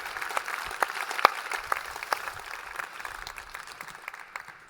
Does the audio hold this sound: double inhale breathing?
no